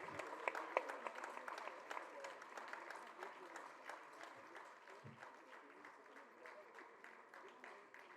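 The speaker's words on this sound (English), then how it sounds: "So a big round of applause for them." Round of applause for thalassemic children at a Thalassemia Day concert, steady scattered clapping from a hall audience, fairly faint and slowly thinning out.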